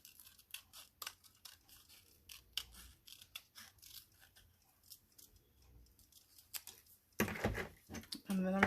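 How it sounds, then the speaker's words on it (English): Scissors fussy cut around naturally dyed paper with soft, quick snips and paper rustle, close and quiet, while a person talks over it, ending in a louder handling burst. "So I'm just going to fussy cut around the natural dyeing pattern"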